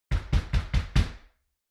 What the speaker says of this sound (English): a knock echoed through the house.